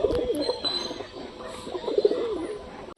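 A pair of caged pigeons coo softly nearby in repeated low rolling phrases, with some faint background noise.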